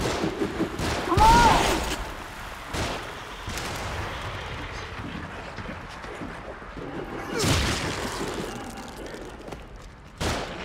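Enemies fire on the player in the horror game The Evil Within, with scattered loud gunshot bursts and booms between stretches of rumbling ambience, fairly close and harsh.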